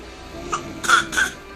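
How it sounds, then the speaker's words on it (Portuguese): Three short, breathy coughs from a young girl come close together, the last two louder and harsher, with no talking around them. "Ai, que tosse, nossa. Tá com muita tosse, né, amor?"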